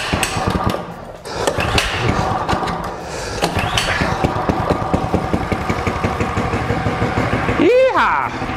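A motorcycle engine starts up and runs loud and close, with a rapid, knocking idle rhythm that holds steady before a sharp rev rises near the end.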